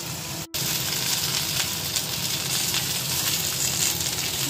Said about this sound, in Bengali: আর এর মধ্যে দিব আমি সর্ষে বাটা, নুন হলুদ দিয়ে একটু ভেজে নিয়ে আসছি